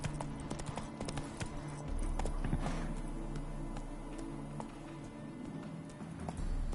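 Horse hooves in The Witcher 3 clip-clop in a steady gait over a constant low game backdrop, with a fuller rumble joining partway through and brief soft voice sounds.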